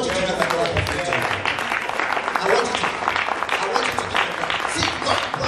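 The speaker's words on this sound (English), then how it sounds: "I want you to give a clap offering to God." A church congregation claps together as an offering to God, a loud dense wash of hands filling the room, with voices and crowd noise mixed in throughout.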